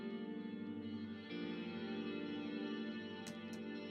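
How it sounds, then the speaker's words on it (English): A sustained, shimmering electric guitar chord washed in long reverb and delay effects, with a brief high click near the end. "massive amount of reverb on the right side too"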